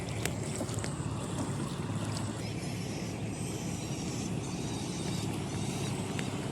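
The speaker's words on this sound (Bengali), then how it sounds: "এই বোট যাচ্ছে, আজকে চেক আউট হচ্ছে, গদখালিতে যাবে।" A boat passes on a river in the Sundarbans, a steady, dense engine and water rumble with wind noise throughout, continuous and at moderate distance, with no talk.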